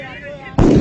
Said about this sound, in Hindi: फिर से पटाखे।